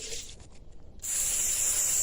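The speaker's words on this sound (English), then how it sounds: "you know how much I love my butter spray." Butter spray from an aerosol can hisses at a campsite: a short burst of spray, a brief pause, then a steady, continuous hiss up close.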